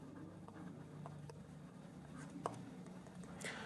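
Marker or chalk writing on a classroom board during a Himalayan geography lesson, a few faint scratchy strokes over a steady low room hum.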